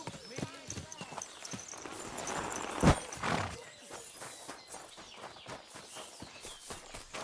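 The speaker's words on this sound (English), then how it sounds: "Get that horse under control." Horse hooves clip-clop at a walk in the medieval video game Kingdom Come: Deliverance II, a steady uneven rhythm of soft thuds under ongoing speech, with a brief louder scuffle partway through.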